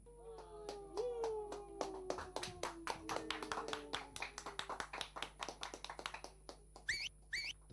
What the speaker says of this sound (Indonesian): Tepuk tangan dan suitan tanda kegembiraan.